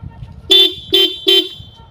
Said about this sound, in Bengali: এটার হর্নের সাউন্ড কেমন একটু দেখাই